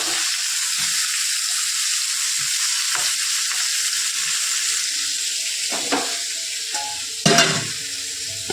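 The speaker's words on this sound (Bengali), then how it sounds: "বেগুনটা একটু ভেজে নেবো।" Eggplant frying in a frying pan, a continuous close sizzle with occasional stirring clinks and a louder scrape near the end, no talk.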